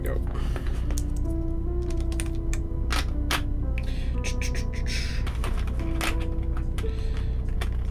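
Keycaps are pried off and pressed onto a mechanical keyboard built with H1 switches, giving sharp scattered clicks and clacks at close range, with a voice faintly underneath.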